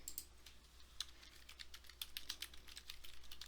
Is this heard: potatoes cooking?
no